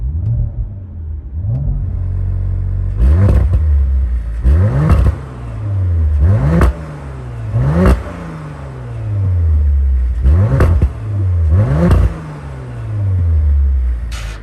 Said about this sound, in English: You hear the exhaust open there